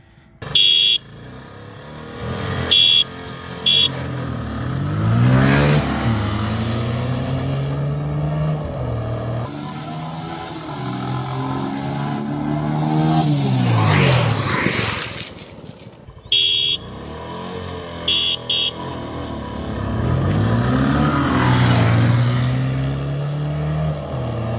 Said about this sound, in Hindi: अपनी दोनों बाइक रेडी हो चुकी हैं ड्रैग रेस के लिए। ये अपनी बुलेट 350 और ये है अपनी अपाची 160।